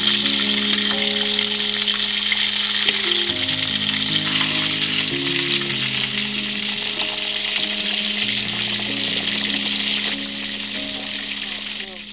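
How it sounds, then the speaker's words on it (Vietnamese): Pomfret fish fries steadily in a pan with a dense, continuous sizzle and crackle, loud and close throughout, with a sustained tonal hum running underneath. "Chiên cá thì chúng ta chỉ nên chiên chín vừa thôi"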